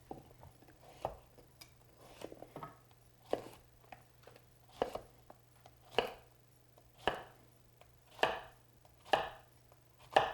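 A knife chops squash on a cutting board in about a dozen separate, sharp knocks with irregular gaps, close but fairly quiet over a low steady hum.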